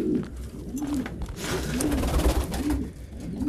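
French meat pigeons cooing steadily in their loft, repeated low throaty coos close by, with continuous background noise.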